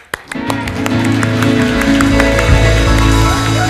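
A church congregation claps and cheers in joyful worship of God, a dense, steady patter of many hands close by with music or chanting voices running underneath throughout.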